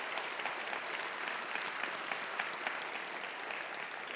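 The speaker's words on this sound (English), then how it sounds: "let's give them a round of applause" Audience applause at a college address, a sustained, dense clapping from a sizable crowd in a hall, even and steady throughout.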